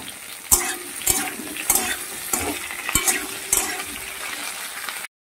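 Tomato and green chillies fry in a pan with a steady sizzling hiss, broken every second or so by the clatter of a spatula stirring. There is no talk, and the sound cuts off abruptly at the end.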